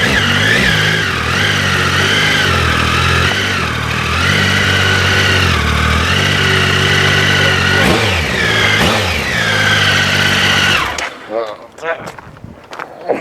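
A Triumph Sprint GT motorcycle engine idles close by with a loud, steady throbbing rumble, rising and falling through a few short blips of the throttle before cutting off, followed by brief faint clicks.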